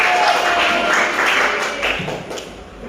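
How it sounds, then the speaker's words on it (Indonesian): A classroom group gives a short round of applause: a brief patter of clapping at moderate loudness that fades over about three seconds. "Tepuk tangan"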